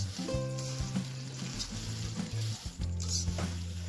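Spices sizzling and frying in a heavy-bottomed pan over an open flame for homemade Maharashtrian black masala, a steady close crackle with low hum and occasional stirring scrapes.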